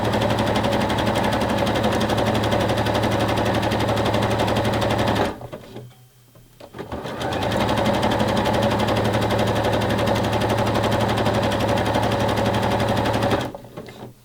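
A sewing machine stitches elastic onto bra fabric in a fast, steady mechanical whir, stopping for about two seconds midway, then running again before a second stop near the end.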